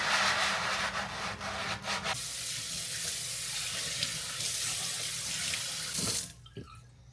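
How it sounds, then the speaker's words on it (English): Scrub Daddy sponge scrubbing under a running faucet in a kitchen sink, a steady rushing stream of water with rough rubbing strokes, close and loud, cutting off near the end. "I swap over to the Scrub Daddy."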